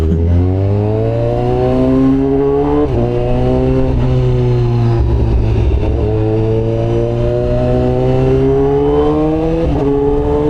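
A superbike's engine revs hard at high RPM, loud and close, its pitch climbing and dropping in repeated sweeps as the throttle is worked, with no talk over it.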